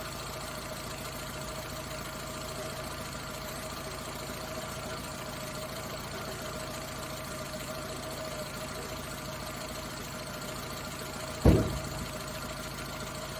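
Suzuki Samurai engine idling steadily at about 800 rpm, a constant low hum with a faint even knock, followed by a single sharp thump near the end.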